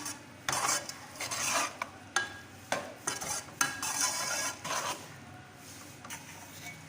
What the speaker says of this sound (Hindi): सारे मसालों को मिक्स कर लें।